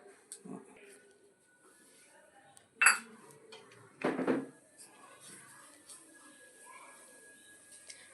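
Cake batter with Eno and milk stirred in a bowl, a few sharp clinks and scrapes of a spoon against the bowl amid quiet, sparse kitchen noise, close by.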